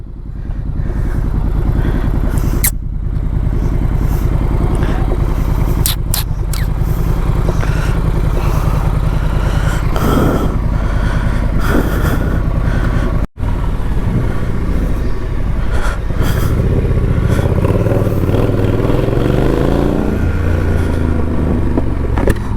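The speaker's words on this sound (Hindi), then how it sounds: "विंड नॉइज़ और गाड़ी का नॉइज़ बहुत ज़्यादा रह सकता है साउंड में" A loud, constant roar of motorcycle engine mixed with heavy wind buffeting while riding in full gear, with brief clattering bursts and a short dropout midway, no speech.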